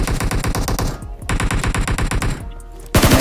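Rapid automatic gunfire from PUBG gameplay while shooting an enemy: loud sustained bursts of fast repeated shots, a short pause, another long burst, then a final sharp blast at the end.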